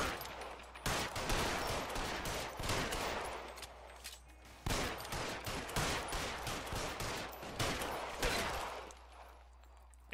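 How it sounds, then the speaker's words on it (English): Gunfire in the video game L.A. Noire, with repeated bursts of shots in rapid clusters across the scene, loud and sharp, separated by brief pauses. "You have to shoot the sign."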